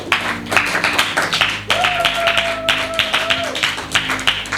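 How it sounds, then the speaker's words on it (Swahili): A church congregation claps hands for Jesus in steady, rhythmic bursts, loud and close, with a sustained keyboard tone underneath. "Piga makofi kwa ajili ya Yesu"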